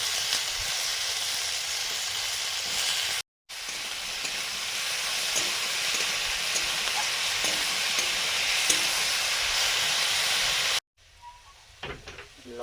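Potatoes and kohlrabi frying in oil in a pan give a loud, continuous close sizzle with light stirring, broken by two short silences and a softer stretch at the end.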